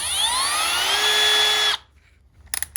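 A Milwaukee M12 FUEL 1/2-inch drill/driver motor whines loud and close, its pitch climbing steadily as it spins up, then cuts off abruptly into near silence, followed by a few short clicks at the end.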